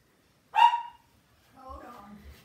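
A single sharp dog bark rings out close by in a quiet room, followed after a pause by a softer, lower muffled vocal sound.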